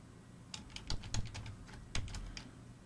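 Quiet typing of CSS code on a computer keyboard, a short irregular run of soft key clicks with a few louder taps, heard alone without talk.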